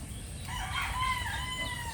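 A rooster crows nearby over a steady outdoor background hum on a windy day, with hens faintly present.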